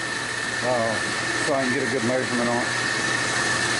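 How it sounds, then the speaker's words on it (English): A steady rotary phase converter hum with a constant tone drones in the background of a workshop while someone talks over it. "you can hear the phase converter running in the background"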